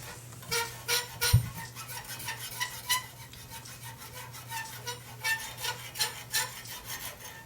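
A forged steel basket twist being hand-filed, repeated rasping strokes in a regular back-and-forth rhythm, close and moderately quiet, with a faint low hum in the background.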